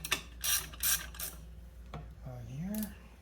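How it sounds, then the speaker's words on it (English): A ratchet tool tightens clutch parts on a JAWA 350 motorcycle during a barn-find restoration, giving several close, loud bursts of clicking pawl. A short metallic clink and a rising whine follow. "And then we'll grab our ratcheting tools here."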